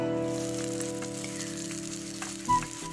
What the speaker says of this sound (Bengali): এখানে এই তেলের মধ্যেই আমি দিয়ে দিলাম পেঁয়াজ কুচি দেন একটু নেড়ে চেড়ে পেঁয়াজটাকে ব্রাউন কালার করে ভেজে নিব